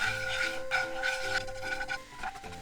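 Cut kombu kelp being stirred in a pan over medium heat, a soft, steady scraping and rubbing close by with faint background hum, no voices.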